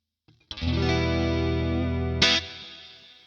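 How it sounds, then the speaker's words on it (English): An electric guitar played through a Boss Katana amp with a stereo pan delay rings out as one loud sustained chord, then a second strum, and both fade with a smooth, chorused, echoing tail; no voices. "I want to get some stereo delay in there, so that's why I'm using the pan delay."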